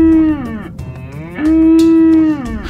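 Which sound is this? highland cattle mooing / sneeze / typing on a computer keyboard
highland cattle mooing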